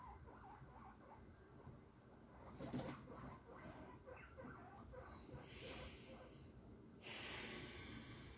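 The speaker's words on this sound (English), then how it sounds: "That's my guinea pig in the background." Faint squeaks and chirps from a small animal, along with soft snorts and breathy sounds over a quiet, hissy room background.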